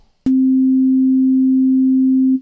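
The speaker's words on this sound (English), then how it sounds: "you could use it as a sound source and just, generate some really pure sine waves" A pure, steady sine wave tone from a synthesizer sound source starts abruptly after a brief click and holds at a constant pitch and loud level for about two seconds before stopping.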